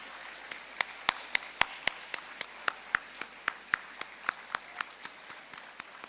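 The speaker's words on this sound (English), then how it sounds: "Can we please clap for them thunderously?" An audience at a school felicitation function claps for teachers in slow, sharp, evenly spaced beats, roughly three per second, crisp and fairly close, with no talking over it.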